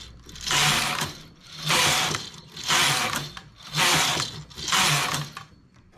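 A knitting machine works rows for a baby bootie, its carriage sliding back and forth in five even, loud mechanical sweeps of whirring and ratcheting, each followed by a brief lull.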